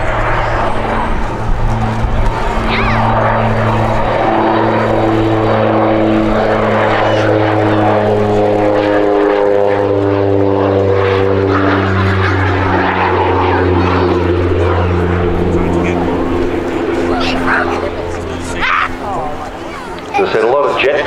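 An OV-10 Bronco twin-propeller aircraft makes a slow fly past at an air festival, its loud droning engines rising and falling in pitch as it passes, while an announcer speaks over a public address.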